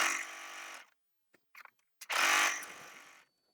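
A sewing machine stitches a half-inch seam on an apron in two bursts of steady mechanical whirring, the second louder and longer, separated by a gap with a few brief clicks.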